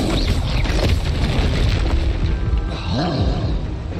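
A Bombarda spell explodes in the Hogwarts Legacy video game, giving loud booming blasts and rumbling bursts that carry on throughout, with a few swooping tonal effects layered over them.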